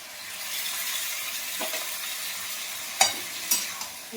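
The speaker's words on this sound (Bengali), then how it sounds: "আলুগুলো দিয়ে দিলাম বটবটি আলু ভাজি" Botboti potatoes fry in a pan for a Bengali home-cooked meal, giving off a steady soft sizzle. A few sharp clinks of a utensil against the pan break in near the end.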